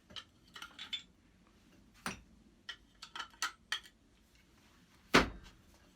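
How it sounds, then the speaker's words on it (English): Metal parts of a hand plane click and clatter as its blade is taken out, a series of sharp close taps and knocks in quiet, ending with one louder clank. "So let's take the blade out of this."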